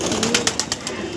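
Kalanka pigeons coo at close range in soft repeated throaty bursts, a handful of pulses in quick rhythm against a quiet background.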